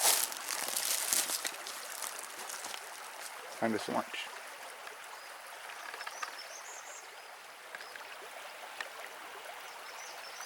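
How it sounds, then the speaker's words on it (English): A creek flows steadily outdoors with a constant soft trickling wash, and a person speaks briefly over it. "listening to the creek"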